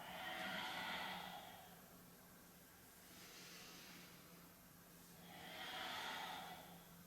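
A slow, controlled breath during a yoga exercise, with soft airy exhales rising and fading twice and a quieter breath between them, close and alone.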